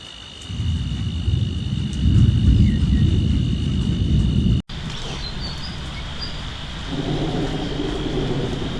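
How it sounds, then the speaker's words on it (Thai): Heavy storm rain pours down in a steady roar, with insects buzzing in the background; the sound briefly cuts out midway, then the downpour continues. "เพราะว่าฝนตกแรงมากเลย"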